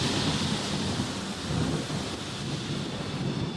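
Storm over Boston, worse than predicted: steady, dense rain hisses continuously with a low thunderous rumble underneath, loud and close, no voices.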